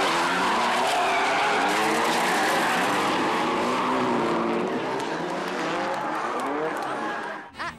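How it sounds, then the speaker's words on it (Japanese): A drift car running too hot slides off the course, its tires skidding and squealing loudly and continuously over engine roar, then ending abruptly as it leaves the track and crashes. "勢い余ってコースアウトし、落としたヘッドライトの行く末は"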